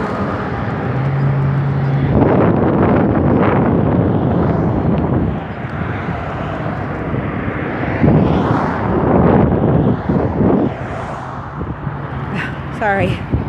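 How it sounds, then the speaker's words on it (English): Wind buffets the microphone while riding outdoors on a breezy day, a steady low rumble and roar that gusts louder near the start and again after eight seconds, with a voice talking over it. "It's kind of windy"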